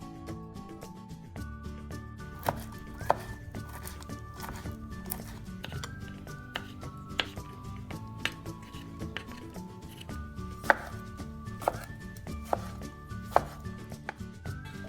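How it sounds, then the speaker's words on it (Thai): A knife chops rapidly on a cutting board, brisk uneven taps repeating close by throughout, no voices. "เรามาหั่นกันเลยนะคะ"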